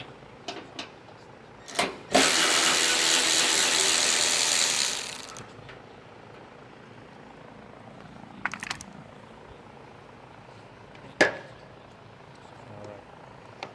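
A ratchet wrench spins off 10mm bolts from the fender of a 2018 Toyota RAV4, giving one long fast clicking run, then scattered short clicks and metallic taps.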